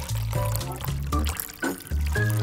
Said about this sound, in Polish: Wystarczy wypełnić czajnik wodą do kreski.